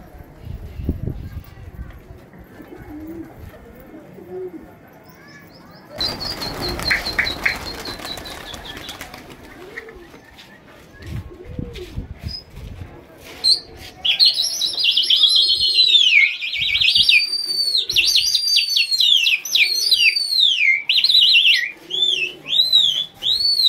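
Fighter pigeons fly and coo on a rooftop, with wing flaps, chirps and cooing calls, and a burst of flapping midway, followed by dense repeated chirping toward the end, while voices talk throughout.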